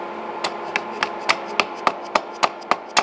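A dead blow hammer taps a socket to seat a speedometer cable on a first-generation Harley EVO, about ten sharp, evenly spaced knocks in quick rhythm, close and clear with no talking.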